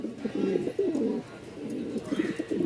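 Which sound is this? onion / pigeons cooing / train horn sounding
pigeons cooing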